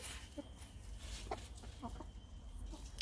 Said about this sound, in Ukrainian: А кури, дивіться, як грибуться в цій траві, шукають собі їдять